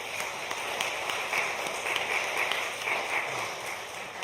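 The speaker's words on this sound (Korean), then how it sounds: "박수로 환영합니다" Congregation applause welcoming visiting members from a Methodist church in Daejeon during a Sunday church service, a steady soft patter of many hands clapping at a moderate distance, continuous throughout.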